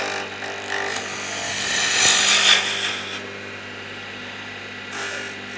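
A skew chisel cuts along a wooden spindle spinning on a lathe, a rising rasping shave that swells and fades over a few seconds above the steady hum of the machine.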